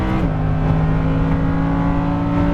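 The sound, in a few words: Lamborghini Huracan LP610-4 engine accelerating after upshift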